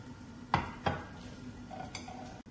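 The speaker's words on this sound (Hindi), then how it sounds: "फिर मैं आपको डिश आउट करके दिखाती हूँ।" Masala bhindi (okra) is dished out of a cooking pan, with two sharp metal utensil clanks against the pan followed by lighter scraping and a bright clink near the end, quiet otherwise.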